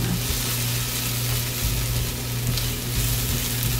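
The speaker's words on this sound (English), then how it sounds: "Continue to saute until the peppers are tender." Minced garlic and bell peppers, seasoned with salt and a sprig of thyme, sauté in a hot pan, giving a steady, close sizzling hiss that runs without a break and with no voices.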